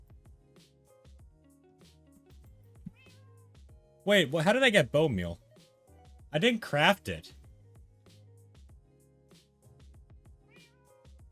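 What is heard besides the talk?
cat meowing in the video game Minecraft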